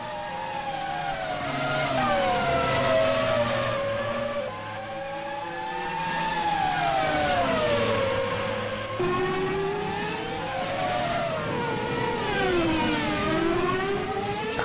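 Several race car engines in a Formula sim racing game at Melbourne whine and climb through gear changes, the pitch sweeping up and down steadily and continuously at close range.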